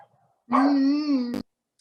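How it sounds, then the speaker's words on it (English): A dog gives a single drawn-out howl-like bark, clear and fairly close, lasting under a second and ending abruptly against an otherwise quiet room. "I heard the dog."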